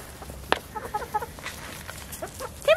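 Young backyard chickens clucking and peeping softly nearby, a scatter of short chirps and clucks with one sharp louder call, against a quiet outdoor background.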